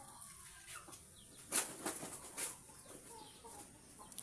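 Chickens cluck and fuss nearby, with a brief burst of flapping and a few sharp high squawks over a noisy outdoor background.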